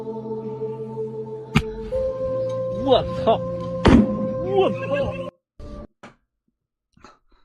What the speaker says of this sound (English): So he puts like a firework, a banger. He puts something down into the ice, tries to run off.